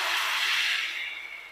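Banana dosa batter hitting a hot dosa pan, a single steady sizzling hiss that starts loud and slowly fades over a second and a half, close and with no talking.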